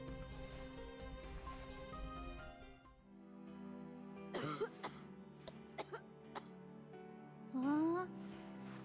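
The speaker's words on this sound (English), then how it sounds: "you sure cough a lot sometimes" A character in Final Fantasy Type-0 HD coughs several times in short, sharp bursts over a steady backdrop of game music, with a throat-clearing sound near the end.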